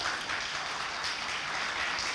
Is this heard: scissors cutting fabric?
no